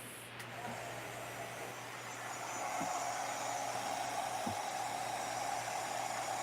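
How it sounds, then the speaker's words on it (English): A WOW heat tool blows hot air for heat embossing on a stamping craft project, giving a steady, moderately loud whooshing hiss that holds for several seconds with faint background knocks. "So I'm using my WOW heat tool."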